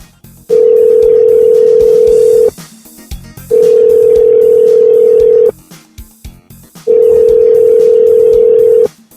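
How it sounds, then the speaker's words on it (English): Phone ringback tone heard while placing a call: three long steady tones of about two seconds each, separated by short gaps with faint room noise, loud and close. "Is it ringing? Is it ringing?"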